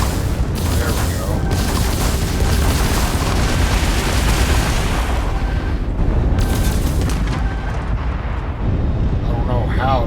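Missiles exploding in the Starfield video game, a loud, dense rumble of booms and blasts that runs continuously with bursts of heavier detonations, and a voice talking over it.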